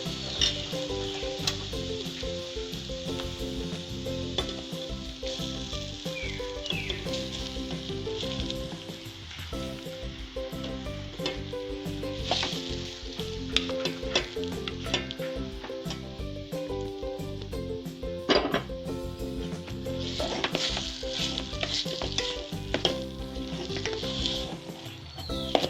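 Onion and potato sizzle steadily in a pan for spicy cutlets, a continuous frying hiss with frequent stirring scrapes and clinks throughout, close and fairly loud, with no talking.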